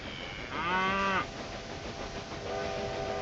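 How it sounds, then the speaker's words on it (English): Mail train in the Railway Empire 2 game sounding a drawn-out horn blast over a steady rolling rumble, with a second softer horn tone near the end. "There's the mail train."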